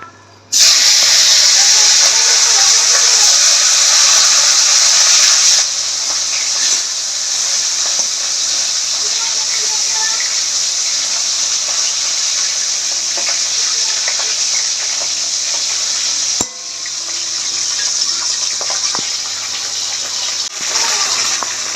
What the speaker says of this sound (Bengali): তাই এখন মাছগুলোকে ভেজে নেবো